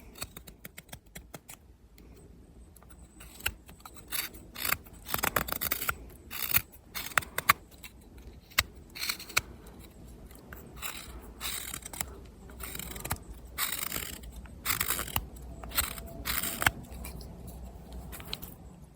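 An Opinel No. 8 carbon-steel knife carves green hazel wood in a quiet outdoor setting, producing a long series of short, crisp shaving strokes in irregular bursts, close and fairly loud against faint background.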